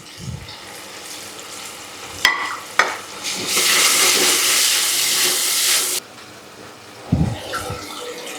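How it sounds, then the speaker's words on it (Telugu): Curry leaves dropped into hot oil while making wheat rava upma, two sharp pops followed by a loud, steady sizzle lasting a few seconds before it drops back to a quieter fry with occasional stirring. "ఇదిగోండి కరివేపాకు వేస్తున్నాం."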